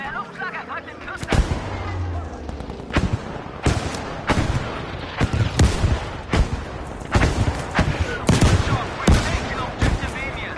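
Air strike hitting a monastery in Battlefield V, heard as a loud barrage of repeated explosive blasts and heavy gunfire bursts spread across the whole stretch, booming close with speech-like game chatter mixed in.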